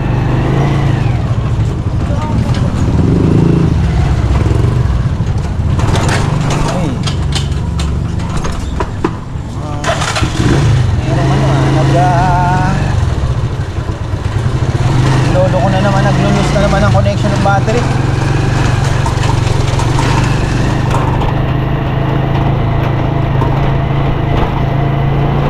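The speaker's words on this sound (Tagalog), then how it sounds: "Naglolo ko itong motor na ito. Hindi na tumino." Close, loud motorcycle engine idling unevenly near a farm and market, its low drone wavering and surging, with people talking over it throughout.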